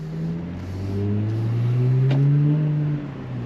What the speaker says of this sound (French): Donc on a vraiment la sonorité du RS4. C'est vraiment très plaisant.